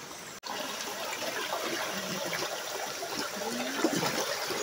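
Balinasan Falls, a waterfall in Merida, Leyte, is heard as a steady, broad rush of falling water that continues evenly throughout, with no voices over it.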